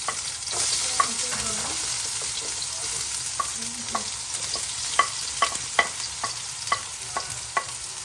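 Finely chopped onions frying in hot oil for chilli con carne, a steady close hiss of sizzling broken by scattered sharp clacks of a utensil stirring the pan.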